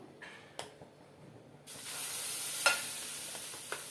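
Instant dosa batter made from upma rava and puffed rice hits a hot pan on a medium stove. After a quiet start with a few small clicks, a loud, hissing sizzle starts suddenly and holds steady.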